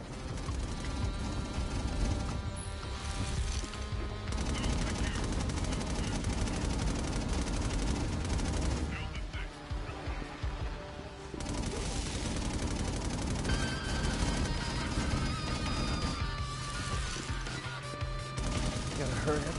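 Auto turrets fire in the Infamous Second Son game, a dense, continuous clatter of automatic gunfire with mechanical rattles and brief lulls, while a voice speaks at times.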